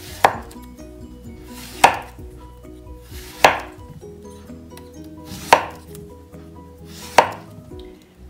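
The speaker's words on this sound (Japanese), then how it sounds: "そして5ミリぐらいの厚さに切ります。" A knife slicing zucchini into 5 mm rounds on a cutting board: five crisp, evenly spaced chops roughly 1.7 seconds apart, each a sharp close thud with a fast decay, heard alone without speech.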